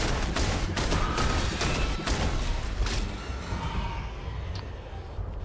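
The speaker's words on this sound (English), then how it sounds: "10 shots." Rapid bursts of gunfire in the space game Starfield, a close volley of about ten shots in the first three seconds, followed by a fading rumble of ambient noise.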